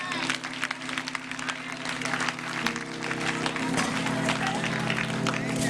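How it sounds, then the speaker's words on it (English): An audience claps at a Mother's Day concert, a steady dense patter of hands sustained throughout, with a low humming tone and room sound running underneath. "Somebody clap Brother GT, Jeffrey Thomas, for this lighting"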